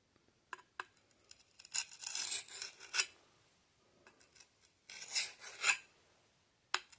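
A medieval woodsman axe blade rasps across a sharpening stone in short, quiet strokes, with bursts of gritty scraping separated by pauses, close and alone.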